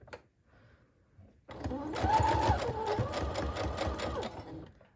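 A sewing machine back stitching fabric journal tags made from dollar store fabric, starting abruptly after a quiet moment and running as a steady, close, rhythmic motor hum and needle clatter for a few seconds.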